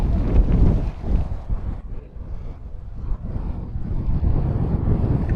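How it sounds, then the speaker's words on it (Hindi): Strong, gusty wind buffets the microphone beside the world's tallest fountain, switched off, with loud, continuous low rumbling that swells and eases. "काफ़ी तेज़ हवाएं चल रही हैं।"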